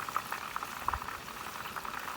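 Hot oil bubbles and sizzles while onions fry in a pan, with a soft, steady crackle of small pops close by and no talking.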